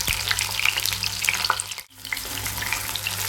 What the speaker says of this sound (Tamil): அடுப்பை சிம்லேயே வச்சுக்கிட்டு இந்த வெங்காயத்தை நம்ம லேசாக வறுத்து எடுக்கிறோம்